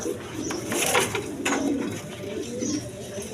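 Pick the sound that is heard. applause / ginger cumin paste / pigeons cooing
pigeons cooing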